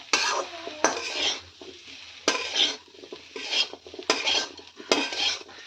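A metal spoon stirs and scrapes jackfruit seed fry with curry leaves in a pan, clinking in repeated strokes with a light sizzle underneath, close and clear with no talking.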